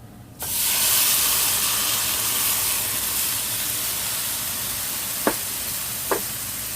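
Jambalaya mix and diced tomatoes poured into a hot pot for sausage and bean jambalaya, setting off a sudden steady loud hissing sizzle that holds for several seconds, with two faint clinks near the end.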